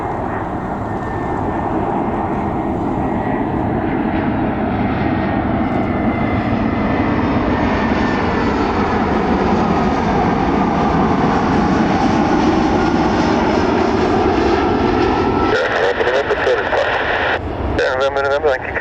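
Aircraft engine roaring steadily at Birmingham Airport as a plane comes in to land on runway 33, loud and sustained with shifting pitch, interrupted near the end by bursts of radio chatter.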